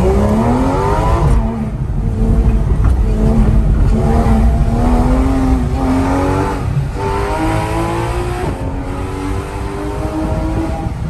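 A Porsche GT3 RS engine revs high, climbing repeatedly through the rev range with rising and falling tones, loud and close throughout.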